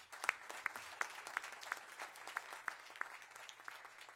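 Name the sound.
applause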